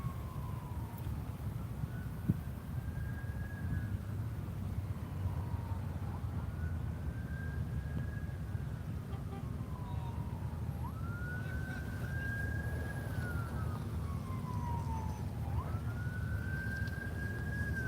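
An ambulance siren wails in long, slow rising and falling sweeps, repeating steadily over a constant rumble of traffic, fairly distant, at Myrtle Beach International Airport.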